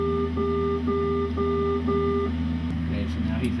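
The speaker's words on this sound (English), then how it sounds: "That sound is him crossing over the outer marker on the way out." An outer marker beacon tone sounds in a flight simulator cockpit as the aircraft crosses the marker: a series of short, evenly spaced beeps over a steady engine-like hum, with a voice starting near the end.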